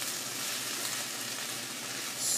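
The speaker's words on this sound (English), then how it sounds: "So if you hear this sizzling, I'm going to mix it a little bit now." Kale greens sizzle in a hot pan, a soft, steady frying hiss heard alone at close range without any talking.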